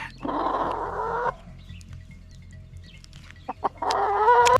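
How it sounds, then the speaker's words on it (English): A chicken gives two loud, close bursts of clucking and squawking, separated by a quieter gap with a few faint clicks. "This chicken has no fear."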